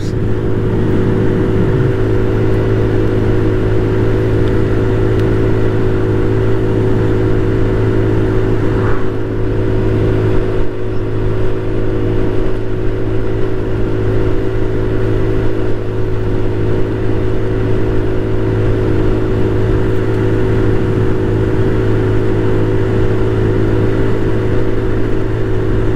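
Ice Bear Hawkeye GY6 150cc scooter engine cruising at steady mid throttle on a country road, a loud continuous droning hum with a constant low pitch and wind rush throughout.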